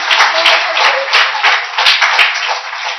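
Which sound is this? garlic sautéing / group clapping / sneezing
group clapping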